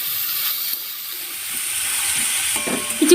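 Chopped tomato frying in a pan with a little oil for cauliflower-stalk chorchori, a steady soft sizzle and hiss close by with a faint clink near the end.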